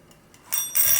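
A simple leg timer gives a short, faint ticking that rises to a brighter, louder ringing chime in the second half, close by with no talking.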